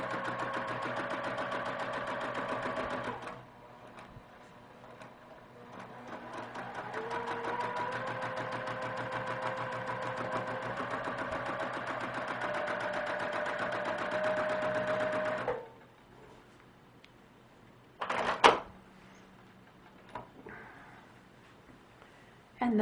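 A sewing machine stitches a quilt block with a steady, fast mechanical whir running continuously for about fifteen seconds, close and even, then stops, leaving a few brief clicks and handling noises.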